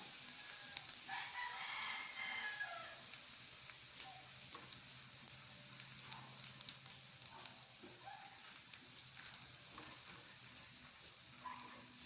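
Minced garlic sizzles in a pan for Bicol-style garlic butter shrimp, a soft, continuous frying hiss with faint crackles over a long stretch, while a rooster crows in the background.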